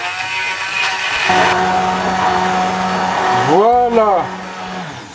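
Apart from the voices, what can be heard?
blender mixing watercress cream soup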